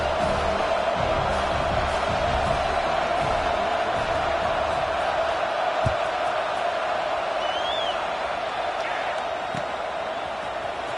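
A dense football stadium crowd roars steadily and loudly throughout, with a continuous wash of cheering and noise and some talk mixed in.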